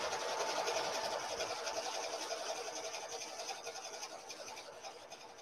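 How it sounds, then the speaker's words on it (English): An embroidery machine stitches an applique letter onto a beach bag, giving a steady, fast, even mechanical whir that holds close and constant throughout. "I'm gonna go ahead and stitch the final stitch too"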